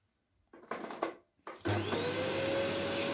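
A Fakir Ranger Electronic 890 W bagless vacuum cleaner switches on after a few short clunks and settles into a loud, steady high-pitched whine with a low motor hum, running close by.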